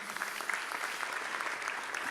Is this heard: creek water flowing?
no